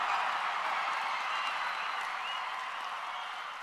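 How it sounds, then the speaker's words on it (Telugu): Steady applause from an audience at a speech announcing funding for Andhra University, a dense wash of clapping that holds at a fairly even level and fades slightly toward the end. "మా మల్లికార్జునరావు గారు లేచి చప్పట్లు బాగానే కొట్టాడు."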